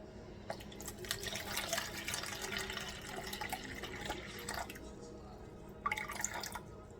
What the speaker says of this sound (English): Then we're gonna do 300 grams of filtered water.